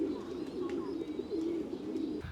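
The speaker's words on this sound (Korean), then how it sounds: "새들을 이렇게 키워놓고 있네" Pigeons or doves kept in an enclosure along the path up Yantai Mountain in China, cooing steadily and close by with a soft continuous murmur, and a few faint chirps above it.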